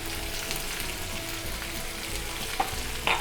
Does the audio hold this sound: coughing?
no